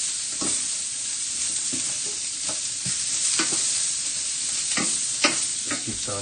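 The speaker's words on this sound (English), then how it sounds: "Just keep sauteing that." Rice sautéing in a pan gives a continuous loud sizzle, broken by repeated scraping strokes of a spatula close by.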